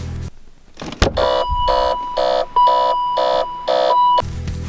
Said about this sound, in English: the car reminds you that you forgot to turn the lights off